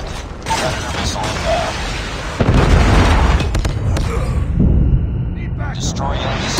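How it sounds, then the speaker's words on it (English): A predator missile explosion in the video game Call of Duty Mobile lands as a sudden loud, heavy boom over a dense bed of game noise with mechanical clatter, while voice callouts sound through the mix. "Predator missile"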